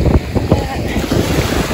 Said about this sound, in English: I love the sound of the water.